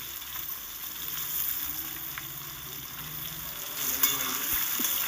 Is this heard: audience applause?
no